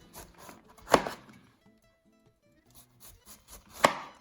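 A knife cuts cauliflower into thick steaks on a cutting board, two sharp, loud chopping thunks about three seconds apart, with softer scraping and rustling between them.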